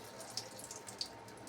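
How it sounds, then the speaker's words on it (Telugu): Water poured away after washing, soft splashing and a couple of brief drips, faint and close with no talking. "సో నేను ఇలా వాష్ చేసేసి పారబోస్తున్నాను."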